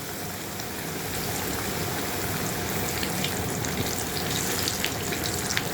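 Chicken frying in oil for dum biryani gives a dense, even crackle and hiss, close and unbroken, with no voices.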